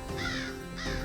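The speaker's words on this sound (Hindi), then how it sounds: "काक तो आ गए" Crows caw twice in quick succession at a Hindu ritual offering, harsh, nasal calls close by over a low background murmur.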